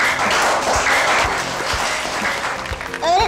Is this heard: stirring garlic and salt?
no